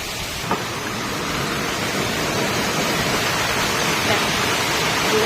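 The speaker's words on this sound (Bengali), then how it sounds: "পুরো ভাদ্র মাসের বৃষ্টির মতন বৃষ্টি হচ্ছে" Heavy monsoon rain pours without pause, a loud, dense, steady hiss of water falling and splashing close by, with no talking over it.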